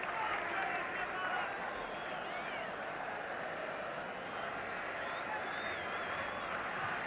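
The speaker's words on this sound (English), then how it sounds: "Tremendously noisy crowd." A tremendously noisy football crowd at a Northern Ireland v England match keeps up a loud, continuous roar with chanting, sustained and dense from start to finish.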